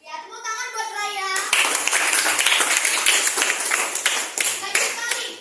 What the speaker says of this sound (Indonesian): Ya, tepuk tangan buat Raya.